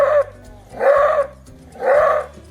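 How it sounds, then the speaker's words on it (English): A wolf-like wild mammal gives three loud, close roar barks, each a harsh drawn-out call about half a second long, evenly spaced with short pauses between. "it's properly called a roar bark, and the sound can carry for miles"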